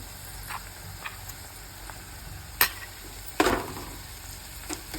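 Crushed onion dropped into a hot pan gives a sudden sizzle and clatter, then a steady low frying hiss with a few light stirring scrapes.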